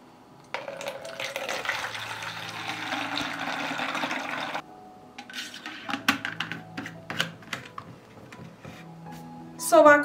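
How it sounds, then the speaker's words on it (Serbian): Diluted homemade garden spray solution is poured from a 5-litre bottle into a sprayer, a steady liquid rush for several seconds followed by sparse clinks, knocks and container handling noises, with a sharp rattle at the end. "I ovako dobijen rastvor sipat ću u prskalicu."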